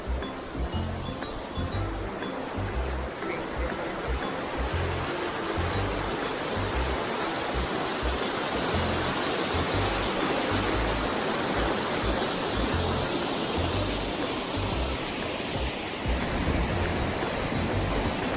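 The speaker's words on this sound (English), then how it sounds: "water is just rushing today" Loud, constant rush of fast-flowing water from a nearby mountain stream in the Smoky Mountains near Gatlinburg, a dense steady roar with no pauses or voices.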